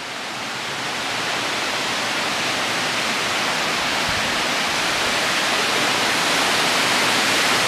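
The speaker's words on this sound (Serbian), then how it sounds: "Tu je se neki vodopad." A waterfall near Zlatibor roars as a steady, loud, broadband rush of falling water, constant and unbroken throughout, heard close by with no other sounds.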